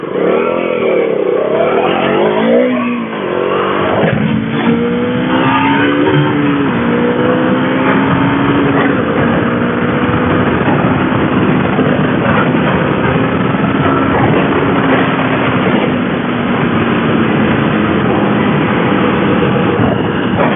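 KTM Duke 250 motorcycle engine on a test ride, a loud, steady close-up drone with rising and falling revs as it accelerates and shifts, continuous throughout with wind rush and no talk.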